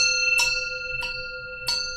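A meditation bell rings three times during a Zen service, bright metallic strikes with sustained ringing tones, evenly spaced about two-thirds of a second apart.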